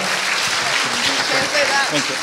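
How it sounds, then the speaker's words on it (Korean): An audience at the close of an education forum session claps in a steady, fairly loud wash of applause, with a voice speaking faintly underneath. "함께해 주신 모든 분들에게 박수 주시기 바랍니다"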